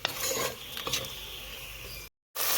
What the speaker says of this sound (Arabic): نخلي الزيتون برك شويه يتحمر مع البصل بهذا الشكل